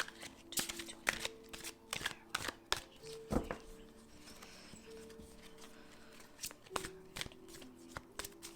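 A deck of tarot cards is shuffled in quick bursts of crisp riffling and snapping, close and fairly quiet, with short pauses between bursts and no speech.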